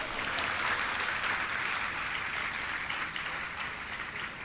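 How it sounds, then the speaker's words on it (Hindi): Audience clapping at a Jain religious discourse by Praman Sagar Ji Maharaj, a dense, steady burst of many hands filling the hall without pause and fading only slightly at the end. "तालियां तो बजाओ।"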